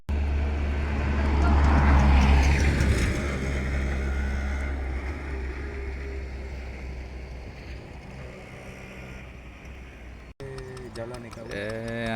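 A fishing boat runs along a dark creek, its engine a deep, steady rumble that is strongest at first and then eases under wind noise, with voices faintly present.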